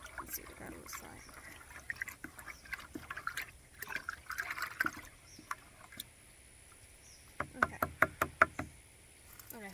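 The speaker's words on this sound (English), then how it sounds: "let me grab my stick here and give it a stir" A stick stirs homemade liquid fertilizer in a container, giving soft sloshes and sporadic wooden knocks against the sides, with a quick run of sharper taps near the end; fairly quiet and close.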